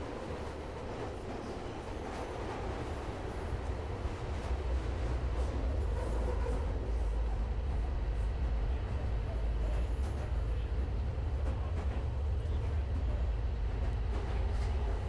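A train rumbles steadily along the tracks in the Fallout London game, a dense continuous low roar with rattling wheels that grows fuller after the first few seconds, and no break in the noise.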